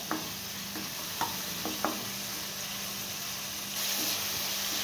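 Salted dal batti mixture is stirred in a hot pan, with a steady sizzling hiss under a few scraping clicks of the spoon, close and unaccompanied by talk.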